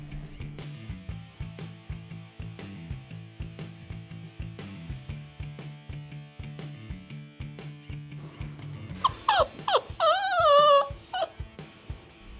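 A cheeky young dog whimpers and yips in a short burst of high, wavering cries near the end, following a stretch of steady rhythmic background sound.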